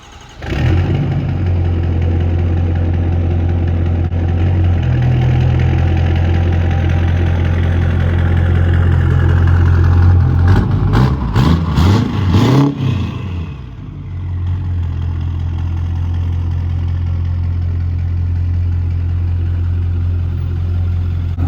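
A Ford 6.4 Powerstroke diesel pickup with an aftermarket exhaust tip idles close by, a steady deep rumble that holds throughout, briefly interrupted midway by a quick burst of revving before settling back to idle.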